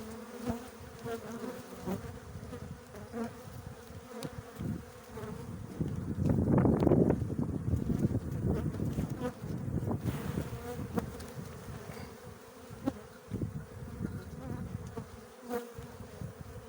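A dense swarm of honeybees buzzes steadily at close range around a hive frame, swelling louder for a few seconds midway before settling back to a constant hum.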